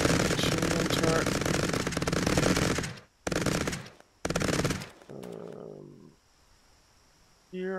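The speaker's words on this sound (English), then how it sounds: "Shooting turret." An automated turret fires in Cepheus Protocol, rattling off loud rapid machine-gun bursts: one long stream, a pause, two shorter bursts, then a lower mechanical whir as the firing stops.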